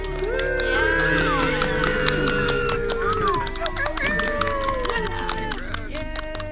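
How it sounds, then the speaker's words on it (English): Audience applause at a festival talk show event, steady dense clapping from a crowd with voices talking over it throughout. "Please give them a round of applause."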